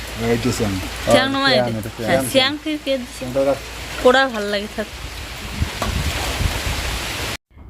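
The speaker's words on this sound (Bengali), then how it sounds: "এদিকে হচ্ছে বৃষ্টি" Steady rain falling outside makes a constant broadband hiss that runs under someone speaking in Bengali, continuing between her phrases until it cuts off abruptly near the end.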